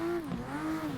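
A drift car engine in the Assetto Corsa racing game pulls hard in third gear at Emerald Coast Dragway, a steady, close, buzzing engine tone that dips briefly and then holds strong.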